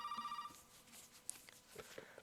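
A telephone rings in the video game Resident Evil Biohazard, a faint electronic bell tone heard in a few short bursts at the start and then fading into quiet game ambience.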